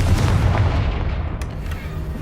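A Confringo fire spell explodes in the video game Hogwarts Legacy as a single loud, booming blast with a deep rumble that slowly fades.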